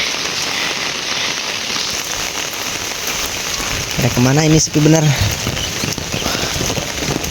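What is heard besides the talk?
rain falling in a remote misty village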